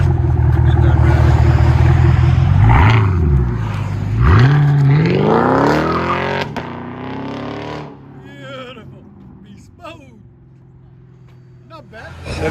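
A Chevy Camaro SS with a 6.2L V8 and Flowmaster Outlaw exhaust revs loudly up close in rising sweeps, then drops to a rumbling idle with lighter blips toward the end.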